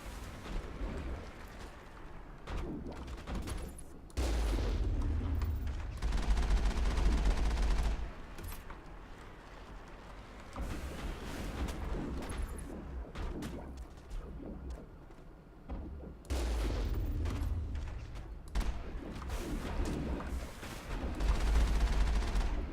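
Machine gun fire in the video game Mass Effect comes in repeated bursts of several seconds each, with short pauses between them. The bursts are heavy and fairly loud over a low ambient background.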